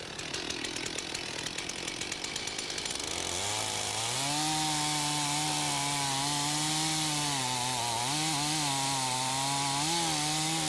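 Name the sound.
chainsaw making a felling cut in a tree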